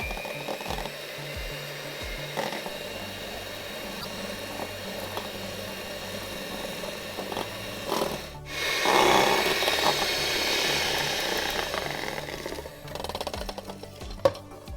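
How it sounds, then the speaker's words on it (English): Egg and sugar mixture for tiramisu being whisked with a mechanical whirring hum that runs for several seconds, grows louder and harsher near the middle, then settles, with no talk. "Whisk together until homogeneous."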